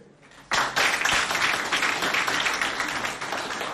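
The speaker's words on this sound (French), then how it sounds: "Si c'est le cas, applaudissez pour eux, s'il vous plaît." A burst of audience applause at a school competition starts suddenly and carries on steadily, dense clapping from many hands filling the room.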